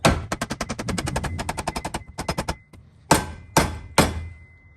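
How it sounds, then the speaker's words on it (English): Steel sleeve hammered through a control arm bushing held in a bench vise on a Toyota Sequoia job: a rapid loud run of metallic hammer blows, a brief pause, then three heavier spaced strikes. "now I'm going to keep on driving the sleeve through"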